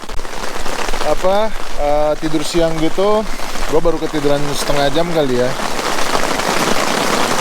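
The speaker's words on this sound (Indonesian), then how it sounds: "Tiba-tiba hujan" Heavy rain falls at night on a campsite at Filemon Camp, a steady close hiss of downpour that runs throughout beneath a person talking.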